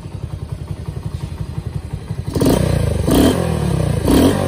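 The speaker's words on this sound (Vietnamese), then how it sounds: "Đó, xe đang nổ máy ha." A Honda 67 motorcycle engine idles with a quick, even putter, then is revved up loud several times in rising bursts, close and alone without speech.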